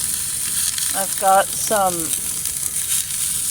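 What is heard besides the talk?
oyster mushrooms, green pepper and onion sizzling in frying pan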